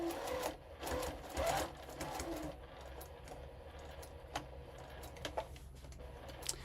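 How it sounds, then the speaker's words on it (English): A sewing machine stitches along a line on fabric in a few quick whirring bursts over the first couple of seconds, followed by quieter scattered ticks and clicks in a calm room. "over to the machine and stitch on that line"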